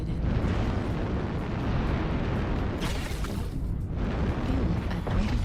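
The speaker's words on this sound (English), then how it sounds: "Artillery strike online. Artillery strike activated." Artillery strike explosions in MechWarrior Online deliver a heavy, continuous rumbling of overlapping booms, loud and dense, with a brief dip midway before the barrage resumes.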